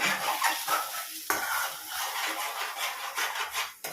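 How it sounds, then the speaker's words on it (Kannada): Egg scrambled in a hot pan for fried rice, a close, steady stir and sizzle with scraping strokes against the metal and a couple of sharper clinks, no talking over it. "ಕ್ಲೀನಾಗಿ ಎಗ್ಗನ್ನು ಈ ಥರ ಸ್ಕ್ರಂಬಲ್ ಮಾಡ್ಕೊಳ್ಬೇಕು"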